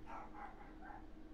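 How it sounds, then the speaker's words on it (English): A chihuahua gives three quick, high barks, faint and somewhat distant, in a short rhythmic burst over a low background hum. "That was my chihuahua barking."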